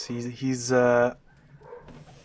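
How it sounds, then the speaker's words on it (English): A dog gives a few close, loud barks in quick succession, followed by quieter softer sounds. "Wow, he's really just barking."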